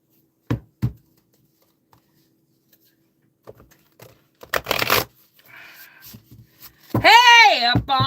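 A deck of cards is riffled and shuffled by hand in a few short, crisp bursts between pauses, close up, with a person talking and a brief burst of sung or exclaimed voice near the end.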